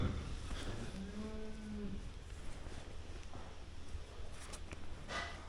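A cow lows in a long, drawn-out moo early on at a cold-weather dairy farm, set against a steady hum of barn noise and low rumble that carries through to the end.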